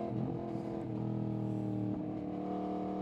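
A Kawasaki Z900 SE or Yamaha MT-10 SP motorcycle engine pulling hard, a loud continuous throaty drone whose pitch climbs and dips as the throttle opens, heard close for about three seconds.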